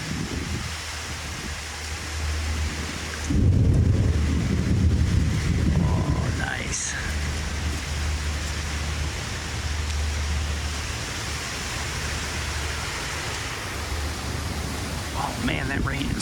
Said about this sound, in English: Man, that rain is coming down.